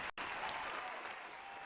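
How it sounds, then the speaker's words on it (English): Applause from a studio or live-show audience, steady broadband clapping sustained throughout at a moderate, fairly distant level with no talk over it. "I can feel the applause."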